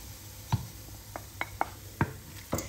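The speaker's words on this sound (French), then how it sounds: "Je mélange." Onions stirred in a pan with about three spoonfuls of oil, ras el hanout and paprika, giving a handful of sharp spoon knocks and scrapes at uneven intervals, close and fairly quiet, with no talk.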